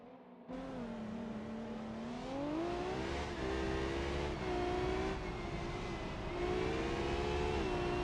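Formula Three race cars on a formation lap at the Belgian Grand Prix, a steady whining engine drone that rises and falls in pitch as the cars accelerate, heard at a distance and continuously, with no voices.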